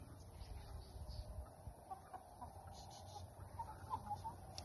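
Chickens cluck softly in the background of an outdoor yard near a duck pool, with scattered short calls over a faint steady ambient hum.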